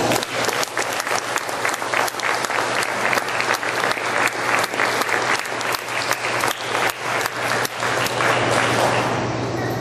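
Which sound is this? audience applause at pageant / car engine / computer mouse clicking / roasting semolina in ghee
audience applause at pageant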